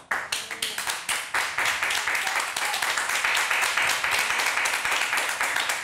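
A television studio audience applauds as a surprise guest, a contestant's mother, walks onto the set. The clapping is dense and steady for several seconds with loud, rippling bursts, and voices mix in.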